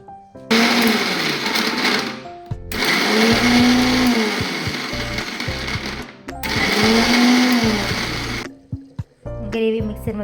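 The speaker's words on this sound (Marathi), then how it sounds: "अद्रक काजू बदाम खोबरं थोडीशी कोथिंबीर मिक्सरमधून छान बारीक वाटून घेऊ" Mixer grinder grinding ginger, cashews, almonds, coconut and coriander, loud whirring bursts of a few seconds each, separated by brief pauses, with the motor pitch rising and falling.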